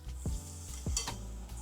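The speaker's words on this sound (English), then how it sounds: "So we're gonna start frying." Steady sizzling of a blue corn tortilla frying in hot oil, with a couple of brief stirring or scraping sounds near the start; no voices.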